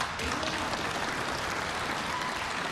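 Steady applause from a large crowd fills the room during a Montana governor's State of the State address, continuous and dense throughout with no pauses.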